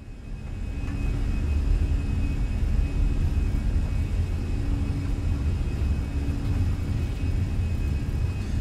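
Fenix A320 twin jet engines on the takeoff roll in Microsoft Flight Simulator, a steady loud low roar and whir that swells in the first second and then holds at a constant, even level.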